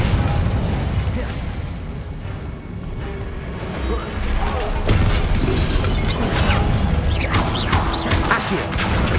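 A Confringo blasting spell explodes in Hogwarts Legacy, with loud booming bursts and crashing impacts layered over continuous game action, while a voice shouts spell names.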